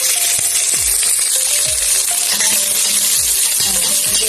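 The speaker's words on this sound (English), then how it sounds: "Give it a nice stir." Curry leaves and dried chilies are stirred in a frying pan, giving a loud, continuous hissing sizzle with repeated scraping and tapping strokes of the spoon against the pan, close up and without talk.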